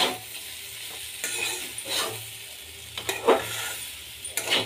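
Potatoes frying in a pan, giving a soft hiss with occasional scrapes as they are stirred, close and alone without talk.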